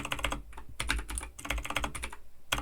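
Fast typing on a computer keyboard, dense bursts of clicky keystrokes in several quick runs with brief pauses between them, close and clear with no talk.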